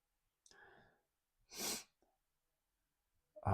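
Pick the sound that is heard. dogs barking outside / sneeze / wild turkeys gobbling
sneeze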